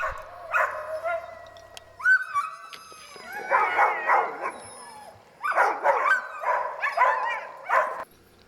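Sled dogs at feeding time in Alaska in fall, eating off the snow beside a river, bark, yip and whimper in repeated bursts, several animals close by with short pauses between outbursts.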